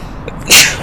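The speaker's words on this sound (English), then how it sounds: "custom sneeze on final." A single short, breathy sneeze bursts out loudly and close in an aircraft cockpit on final approach, lasting a fraction of a second over low background noise.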